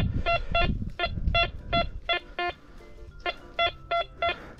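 A metal detector sweeping over buried aluminium scrap along a hedge gives repeated paired electronic beeps in a steady rhythm, close and clear, with low rustling from the ground underneath.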